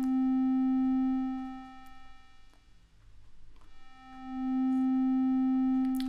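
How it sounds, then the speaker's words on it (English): Dreadbox Eudemonia Eurorack filter with the high pass engaged, a bright sustained synth tone that fades out, dips to near silence for a moment, then swells back to full strength. "let's open up the low pass filter and let's play around with the high pass filter"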